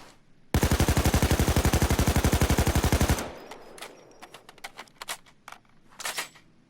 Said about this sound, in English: So I'll just fire more rounds.